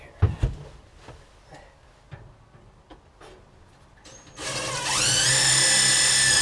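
Self-drilling lag screws bore and tap into the steel frame of a mobile locksmith service van, a loud, close power-driver whine rising in pitch and running steadily after a few scattered knocks and clicks.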